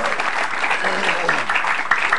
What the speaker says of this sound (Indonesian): Tepuk tangan buat Kang Diki Chandra